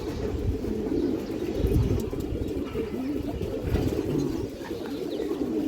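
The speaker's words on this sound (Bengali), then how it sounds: "এই যে দেখেন কবুতর দেখেন আপনারা" Pigeons coo in low, throaty, rolling calls that carry on without a break, close by and fairly loud.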